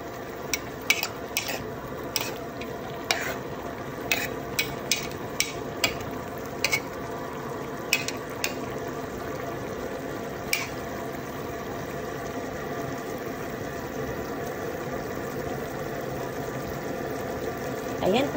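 Zucchini sautéing in a pan with garlic and onion makes a continuous hiss, broken by regular sharp clicks and scrapes of a spatula against the pan throughout.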